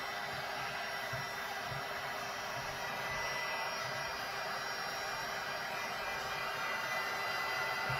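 A heat gun blows hot air steadily over a wooden cutting board, a continuous loud whooshing rush that holds even for the whole stretch with no talking.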